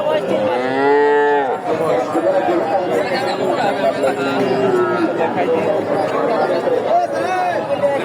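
Friesian bulls at a busy cattle market moo loudly, one long bellowing call near the start and further lowing after, over a steady hum of crowd chatter and nearby talking.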